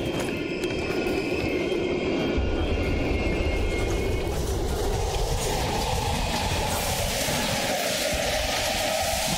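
A passing train in the video game Call of Duty Black Ops Cold War at an abandoned station, a steady dense rumble and rush with faint clatter that swells and shifts, no speech over it.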